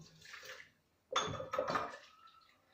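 Water is poured into a vessel during homemade butter making: a faint splash, then two louder close pours in quick succession that fade out, with no talking.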